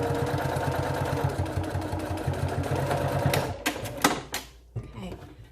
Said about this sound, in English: you're going to be sewing your flaps open